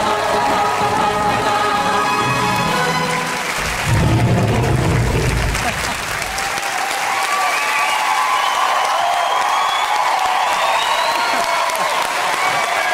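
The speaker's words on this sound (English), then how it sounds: "give him a big round of applause" Britain's Got Talent 2017 semi-final studio audience applauding and cheering for Matt Edwards: a loud, sustained roar of clapping and shouts with whistles, a heavier rumble midway, then continuing crowd cheer.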